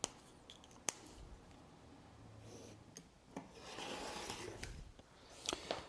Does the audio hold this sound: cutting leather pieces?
yes